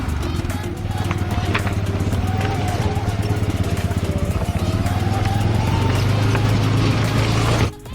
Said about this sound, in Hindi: एंड गाइज अब टाइम है ATV बाइक्स की टेस्ट ड्राइव का